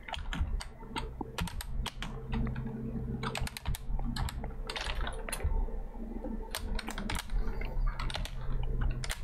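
Fast, continuous clatter of typing on a computer keyboard during an online Dungeons & Dragons session. Keys are struck close and loud in dense bursts, with no talking.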